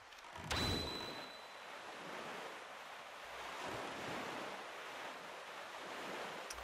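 Boat sailing across open sea in The Legend of Zelda: The Wind Waker HD, with steady rushing waves and wind noise throughout and a brief louder splash near the start.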